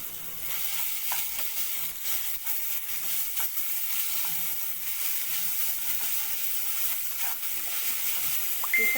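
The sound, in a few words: garlic, ginger and tomato sizzling while sautéed for matar paneer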